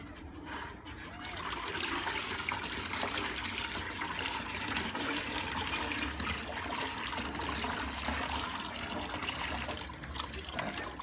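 Hot water runs steadily from a tap to bathe a young French Bulldog puppy, a continuous loud gushing stream that fills the whole stretch.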